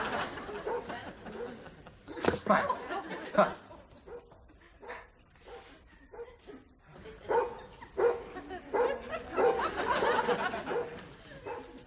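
Simba, a dog, gives a few sharp barks and some whimpers in a room while people talk and laugh nearby.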